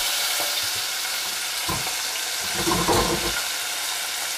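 Mixed vegetables fry in a hot pan with lightly browned cardamoms, giving a steady close sizzle broken by louder bursts of stirring and tossing.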